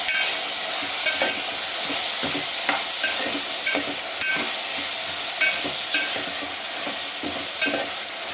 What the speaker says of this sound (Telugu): ఇవి బాగా ఫ్రై అవ్వాలండి